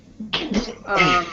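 A single sharp sneeze bursts out up close, followed by a brief voice speaking right after it.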